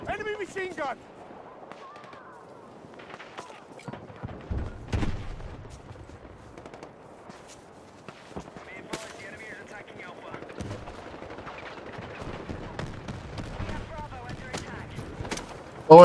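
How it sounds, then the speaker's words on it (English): Enemy machine gun fire in Battlefield 6, with scattered bursts of automatic shots and booms spread through sparse battle ambience, some close and sharp, others farther off, and a voice talking in between. "Enemy machine gun!"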